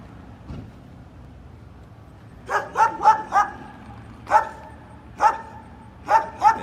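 At a K9 training facility, a dog gives a string of sharp barks in uneven bursts, moderately close, over a low rumbling background with no speech.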